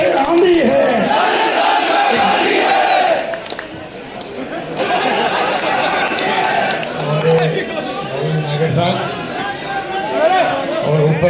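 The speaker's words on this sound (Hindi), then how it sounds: "सारे माननीय मुख्यमंत्री जी का ताली बजाकर स्वागत करें जोर से।" A large crowd at a political gathering welcoming a Chief Minister applauds and cheers loudly and continuously, a dense roar of clapping and shouting that dips briefly and then swells again, with voices mixed in.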